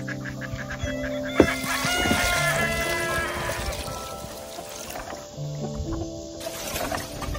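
A rooster crows among clucking hens inside a chicken coop, with several overlapping calls close by and steady murmuring from the flock throughout.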